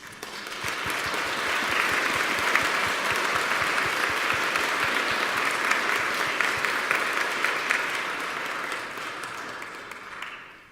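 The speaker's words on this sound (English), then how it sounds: "let's give them a round of applause" An audience at a youth orchestra concert applauds the adult orchestra members, a dense, sustained crowd of clapping that swells quickly, holds steady for about ten seconds, then fades.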